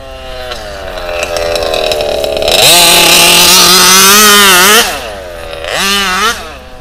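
HPI Baja RC car with a petrol engine, fitted with slick tyres, revving hard while pulling wheelies: a loud, buzzing two-stroke whine that rises sharply, holds at high pitch, then drops and revs up again briefly, very close.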